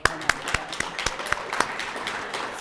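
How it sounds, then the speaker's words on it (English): Scattered audience applause at a credit union annual meeting in Denver, Colorado: a handful of sharp, separate hand claps spaced irregularly over a steady room hum, with some voices murmuring underneath. "I think that deserves a round of applause."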